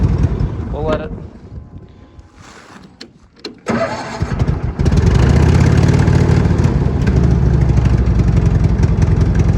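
A long-idle Cushman Truckster engine cranks in short bursts under a man's brief coaxing, then catches around midway and settles into a loud, steady, rough idle close to the microphone.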